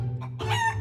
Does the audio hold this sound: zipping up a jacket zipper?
no